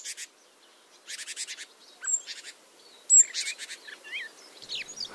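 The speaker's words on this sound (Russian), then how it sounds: "Взять хотя бы этого сибирского дрозда" A Siberian thrush sings in short, bright phrases with pauses between them, mixed with thin whistles and chirps. The song sounds fairly close and clear against a quiet background.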